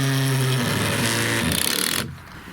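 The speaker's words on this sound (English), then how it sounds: "I drill through the bottom" A power drill bores through the bottom of a piece, its motor whining in a steady high-pitched drone that shifts tone mid-way before cutting off abruptly near the end.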